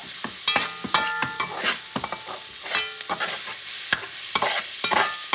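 Sausage frying in a pan for Creole shrimp with cornmeal is stirred with a utensil, giving repeated scraping clinks over a steady close sizzle, with no talking.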